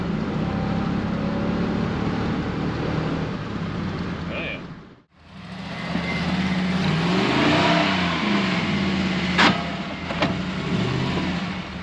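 An old 1956 truck engine rumbles while driving, with a brief dip before it picks up again, and a voice talks over the noise.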